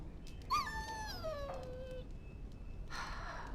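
A dog whimpers in Dragon Age: Origins, a single high, falling whine that trails off over about a second and a half against low background ambience, followed by a short soft rustle.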